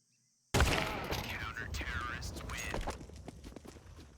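Rapid bursts of gunfire and action noise from a Counter-Strike esports match on the Ancient map, loud and busy, with a commentator's voice running over the shots.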